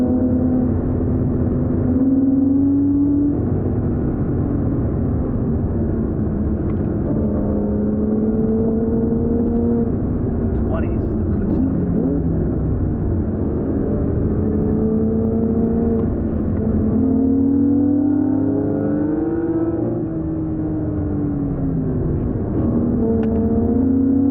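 A Porsche 981 base Cayman drives along a road, its engine a steady close drone whose pitch rises and falls with shifts and throttle changes throughout, with no talking.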